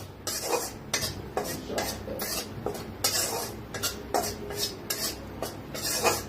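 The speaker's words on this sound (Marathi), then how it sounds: "आपल्याला थोडंसं का नाही 1 चमचाभर बेसन भाजून घ्यायचंय।" Dry gram flour (besan), about a spoonful, being roasted and stirred in a kadhai over a gas flame: repeated scraping strokes of a spoon against metal in a steady rhythm, close and fairly loud, with no one speaking.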